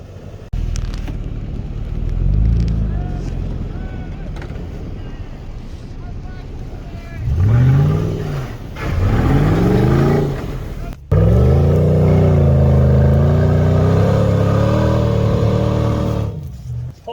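Engine of a 4th-generation Toyota 4Runner fitted with tracks on an off-road trail, droning with rising and falling revs that swell into louder, sustained strain late on, mixed with wind buffeting and occasional voices.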